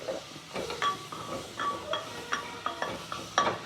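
Cassava is stirred into a tomato gravy for cassava biryani, with repeated scraping and knocking strokes of a spoon against the pan over a faint sizzle, close up and without speech.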